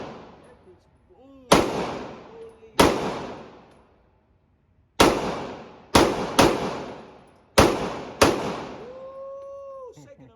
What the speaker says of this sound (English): Today we're gonna be shooting the Syntec action pistol